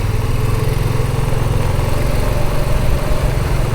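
A motorcycle engine runs steadily and close by, a continuous low throbbing drone with no talk over it.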